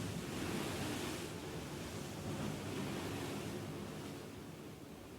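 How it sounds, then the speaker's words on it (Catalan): Sea waves wash steadily in a broad, continuous surf roar at moderate level, with no voices and a slight fade toward the end. "I el mar oneja."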